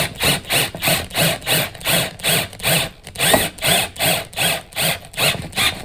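Drill tightening a jack nut into the metal wall of a van being converted, a steady pulsing whir that rises and falls about twice a second, loud and close with no voices.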